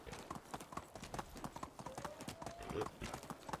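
A horse's hooves clip-clop steadily at a brisk pace while riding in the video game Medieval Dynasty, rapid and even, with a brief faint whinny-like tone partway through.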